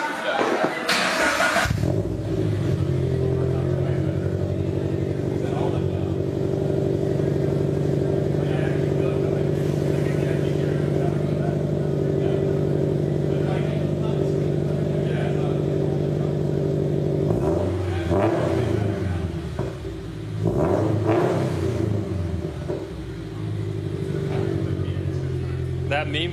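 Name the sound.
car with open flash headers revving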